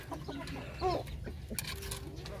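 Breeder chickens on a poultry farm clucking softly, a few short clucks around faint background farm noise and low murmuring.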